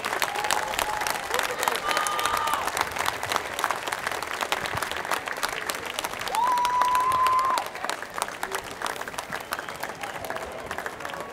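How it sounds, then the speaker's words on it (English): A crowd at an Armed Forces Day parade in Torrance, California applauds in sustained, dense clapping from many hands, steady and fairly loud throughout, with faint voices mixed in. "A round of applause, ladies and gentlemen."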